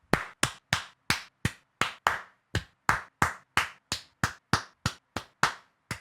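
A single pair of hands clapping sharply and close, around twenty distinct claps in a fairly steady rhythm with brief pauses between them.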